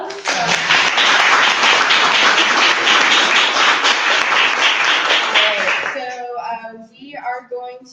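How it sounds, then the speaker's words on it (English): An audience at a professional employer networking event claps in a loud, sustained round lasting about six seconds, then the clapping fades as a voice starts talking. "Can we give a round of applause?"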